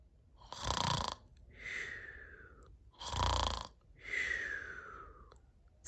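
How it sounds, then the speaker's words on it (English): Loud snoring in an animal story comes as two full cycles, a harsh rasping inhale followed by a softer whistling exhale each time, slow and even, close up and alone. "snored the other animals."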